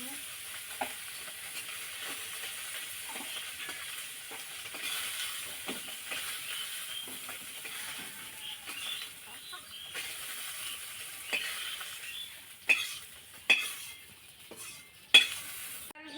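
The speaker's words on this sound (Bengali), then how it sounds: "মাছটি ভাজা হয়ে গেছে মনে হয়।" River fish, a ghora fish, fries in oil at home, giving a soft steady sizzle punctuated by sharp utensil clinks and stirring knocks that grow louder toward the end, with no voices.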